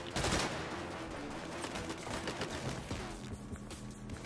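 Dense automatic gunfire in the video game Saints Row, a loud, continuous rattle of rapid shots with overlapping bursts throughout.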